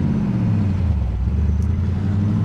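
A 1969 Chevrolet Camaro SS built in Baldwin Motion style rumbles nearby with a deep, loud engine note. The throaty drone holds steady through the short stretch, with no voices over it.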